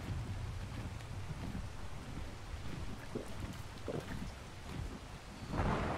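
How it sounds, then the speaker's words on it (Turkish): Rain and thunder in the video game Ark Survival Evolved: a steady wash of heavy rainfall with low rolling rumbles, swelling near the end, without talking. "Ya mutlaka bütün önemli olaylarda yağmur yağıyor."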